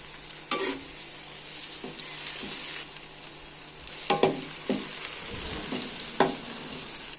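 Browned onions with ginger garlic paste sizzling in a pan as a spoon stirs, steady frying hiss with scattered scraping clicks, close and fairly quiet.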